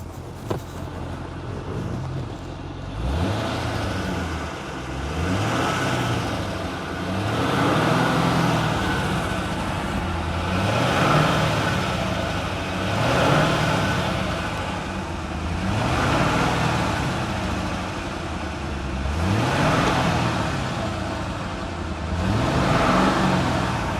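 A car engine fitted with a K&N cold air filter is revved repeatedly while parked. About eight rhythmic blips, each swelling and falling back to idle, come every few seconds at moderate loudness with no talking.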